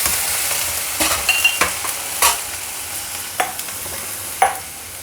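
Onions fry in a pan for Gobi Manchurian while water is poured in and stirred, giving a steady soft sizzle broken by repeated sharp scraping strokes and clinks. No voices.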